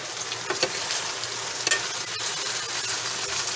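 Tomatoes cooking in a pan give a steady, close sizzle with faint stirring scrapes throughout, no voices.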